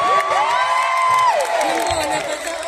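Crowd at a Filipino week event in Al Suwaidi Park, Riyadh, cheering and whooping loudly and continuously, with high shouting voices rising and falling through a dense wash of noise.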